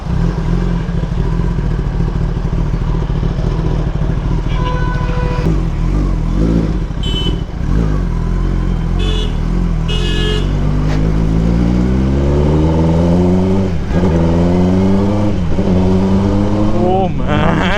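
Kawasaki ZX10R superbike engine running steadily throughout while being ridden, with rising and falling revs toward the end as the rider accelerates, loud and close with some rattling and clatter over the drone.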